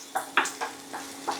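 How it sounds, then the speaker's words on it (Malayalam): Onions sautéing in coconut oil for payar mezhukkupuratti, a soft sizzle under a few scraping strokes of a spatula against the pan in uneven rhythm. "ആ വെളിച്ചെണ്ണയിൽ ഉള്ളിയൊക്കെ മൊരിയുന്ന മണം ഇട്ട് നന്നായിട്ടൊന്ന് ചെറിയ ബ്രൗൺ കളർ ആവുന്ന വരെ നമുക്കൊന്ന് വഴറ്റിയെടുക്കാം"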